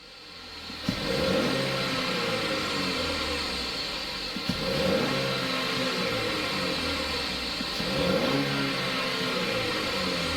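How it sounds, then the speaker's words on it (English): A GM car engine revs hard as the gas pedal is floored, surging and falling back in repeated cycles, loud and close with a steady idle between pushes and no talk. "hit the gas pedal to the floor 5 times. So basically rev it up, and then let it come back down"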